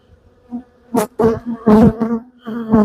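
Agitated honey bees swarming around an opened hive after honey frames were removed, with close buzzing that swells and fades in irregular bursts as individual bees fly past.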